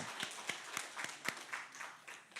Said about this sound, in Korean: 함께 박수로 환영하겠습니다.